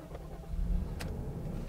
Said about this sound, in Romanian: auzi torsul ăla specific al mașinii